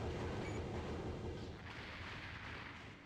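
A deep, rumbling explosion rolls out in the 1997 Armored Core video game, a broad sustained roar that slowly fades, heard faintly with no talking.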